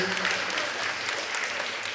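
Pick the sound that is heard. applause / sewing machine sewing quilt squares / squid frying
applause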